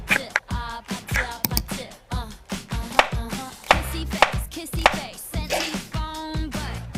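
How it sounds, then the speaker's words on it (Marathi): A knife finely slices tondli (ivy gourd) lengthwise on a board, giving close, quick, rhythmic chopping taps in uneven bursts, with a few faint vocal sounds between strokes. "उपकरी करताना आपल्याला तोंडली उभी बारीक चिरून घ्यायची आहे"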